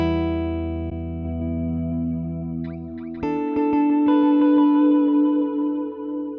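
Guitar played through a Helix modeller's Space Echo tape delay effect, sustained chords followed by plucked notes that repeat in fading echoes, moderately loud and alone.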